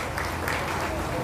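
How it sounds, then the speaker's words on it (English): Crowd applause for young exhibitors at a county fair beef show forms a dense, steady wash of clapping in a show ring, with a voice speaking over it. "How about a round of applause for our exhibitors?"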